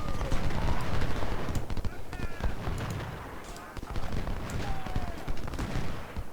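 Musket volleys crackle in the Ultimate General: Civil War game at Chickamauga, dense overlapping rifle fire rolling continuously through the battle with scattered sharper cracks.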